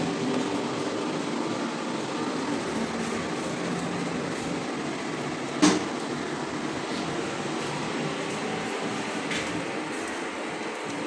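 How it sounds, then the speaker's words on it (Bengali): A powerful elevator motor runs with a steady, continuous hum and rumble, close and even throughout, with a single sharp click or clank partway through and no talking. "এই যে লিফট চালু হয়েছে, লিফট চালু হয়ে গেছে"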